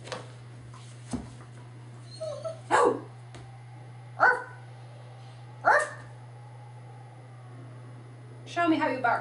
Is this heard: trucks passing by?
no